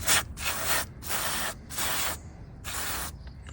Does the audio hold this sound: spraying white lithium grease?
yes